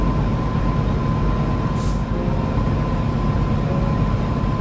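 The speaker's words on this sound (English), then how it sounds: "Our motive power is this NR class loco" An NR class diesel locomotive hauling The Overland passenger train between Melbourne and Adelaide rumbles steadily nearby, a continuous loud low engine drone with a faint sustained tone and no talking.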